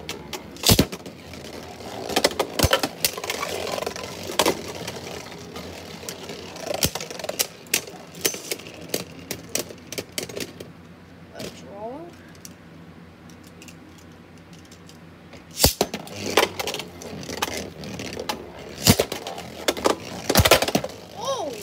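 Hasbro Infinite Achilles prototype Beyblade battling a left-spin Helios in a stadium, with sharp clacks and scraping impacts coming in irregular bursts, busiest at the start and near the end, plus steady whirring between.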